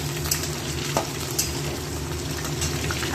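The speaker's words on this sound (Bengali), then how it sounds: "আলুগুলো তেলে দিয়ে দিয়েছি, কোনো নুন হলুদ দিইনি, এমনি একটু ভেজে নেব আলুগুলো" Small whole potatoes frying in hot oil with no salt or turmeric, a steady close sizzle with a few soft clinks and stirring knocks.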